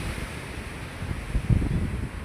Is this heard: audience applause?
no